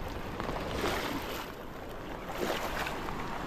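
Strong floodwater current rushing steadily past flooded rice paddies, a continuous broad hiss and wash that stays loud and close throughout, with no talking.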